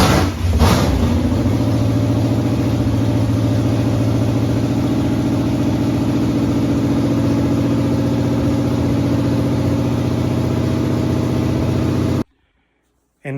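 A Chevrolet Nova engine, abandoned and unrun for about 30 years, fires up with a burst and settles into a loud, steady close-up idle and rev that runs unbroken before cutting off abruptly.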